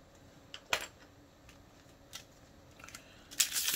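Packs of Magic: The Gathering cards are shuffled by hand, giving a few scattered soft flicks and riffles spread across a quiet room, with a louder flurry of card noise at the end; no one speaks.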